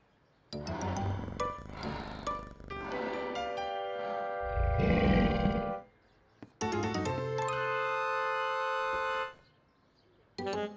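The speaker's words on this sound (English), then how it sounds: "It's just a baby lion." A cartoon baby lion at a zoo lets out several drawn-out, tonal roars in quick bursts, loud and close, separated by short pauses with no talking.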